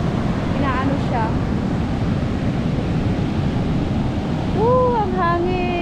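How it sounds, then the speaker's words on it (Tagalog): Ocean waves breaking on a soft sandy beach at Baler, Aurora, Philippines, a steady loud wash of surf and wind that fills the whole clip, with people talking over it near the end. "Pagkalakasan talaga ng alon."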